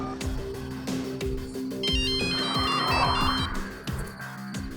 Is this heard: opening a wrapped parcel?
no